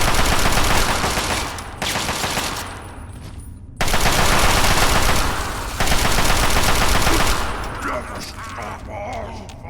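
Rapid automatic gunfire in Fallout 3, loud sustained bursts shooting at an Overlord, with short pauses between volleys and a voice speaking over parts of it.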